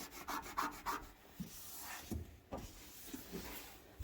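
Cleaning paste scrubbed over a gas range stove, heard as close, continuous rubbing strokes with rhythmic quick passes at first, then slower, irregular scrubbing.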